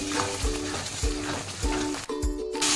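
Ginger paste masala frying in a pan for Bengali chicken kosha, a steady sizzle with rhythmic spatula scrapes and stirring knocks roughly every half second, a hum running underneath, no voices.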